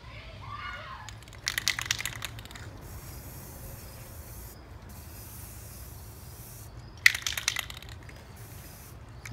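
Short hissing bursts of clear coat sprayed onto a toy crane, two brief sprays a few seconds apart over a steady outdoor background.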